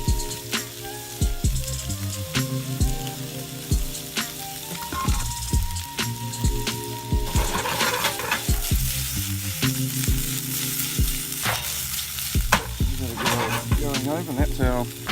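Chili paste frying and being stirred in a pan, cooked outdoors for a curry: a steady sizzle with repeated scraping and knocking of the utensil, plus tonal chimes or music running underneath throughout.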